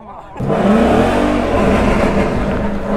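A Ford Mustang engine roars up loud and close after a brief quiet start, holding a steady rumbling rev with a rising tone.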